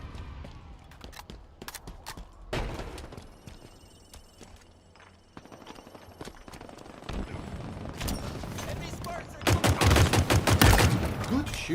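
Gunfire in Halo Infinite crackles in scattered bursts, then builds into rapid, loud automatic volleys close by toward the end, over a low mechanical hum.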